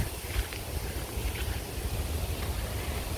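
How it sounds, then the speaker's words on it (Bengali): Strong wind gusts across an open Bangladeshi village, buffeting the microphone with a steady, heavy low rumble and hiss that never lets up, with no voices. "উফ বাতাস বাপরে বাপ বাতাস রে মনে হয় বাতাস উড়িয়ে নিয়ে দেবো এরকম একটা বাতাস থাকছে আজকে"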